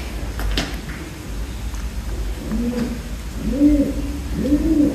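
A pigeon coos inside a building on an abandoned RAF Kenley airbase, a few soft repeated coos rising in the second half above a low background hum with faint knocks.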